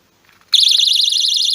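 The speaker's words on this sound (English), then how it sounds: "I'm sure you know this is like a little door alarm" After a brief soft rustle, a loud, shrill magnetic door alarm bursts on and keeps sounding with a fast, steady warble.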